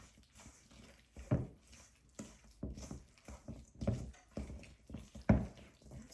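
Jamaican fritter batter being stirred in a bowl, soft wet squishing and scraping in uneven repeated strokes, faint and close with no talking.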